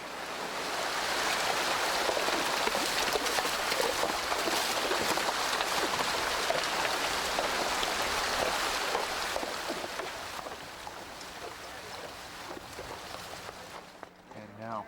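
Snyder Creek rushes along a mountain canyon drainage below Sperry Chalet in Glacier National Park, a steady broadband wash of flowing water that holds strong, then softens and thins toward the end.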